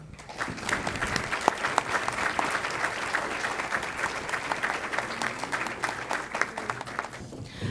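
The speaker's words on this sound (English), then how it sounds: "I would also like to have a round of applause for the faculty who helped them do such excellent work." Applause for faculty at an evening college event, with a crowd clapping steadily and densely for the whole stretch at a consistent, fairly close level.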